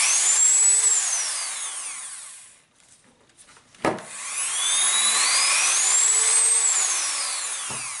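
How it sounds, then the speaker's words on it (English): A repaired Dremel 3000 rotary tool whines up to a high pitch, winds down to silence, then a click sounds and it spins up again before tapering off, loud and close with no talking. "And working, so I have one working Dremel."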